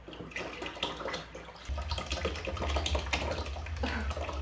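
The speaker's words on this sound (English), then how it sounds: "that was a solid pulp sound" Paper pulp sloshes and churns in water close up, a continuous wet swishing that grows heavier and deeper partway through, with no voices.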